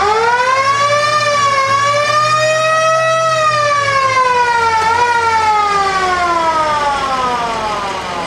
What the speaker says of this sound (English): then that one there is the growler siren.